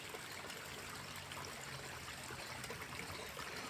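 Old Sakras river, a year-round stream near Firozpur Jhirka, flowing with a steady broadband rush and trickle, continuous and fairly faint throughout.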